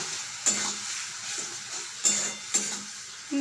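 Arum lobe and shrimp sauté in a hot pan with a steady sizzle, while a spoon scrapes and stirs in several sharp clanks against the metal, close and clear with no talking.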